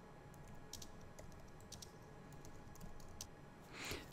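Quick, light clicking of a computer keyboard as a CSS rule is typed, a close, quiet stream of keystrokes with a few slightly louder taps.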